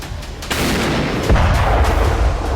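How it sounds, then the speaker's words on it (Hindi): Artillery fire in war news footage of Russian shelling, with heavy booming blasts and sharp reports landing in quick succession over a dense rumbling background, loud and close. "रूस ने अपने तोपखाने की आग और हवाई हमलों को दोगुना कर दिया है"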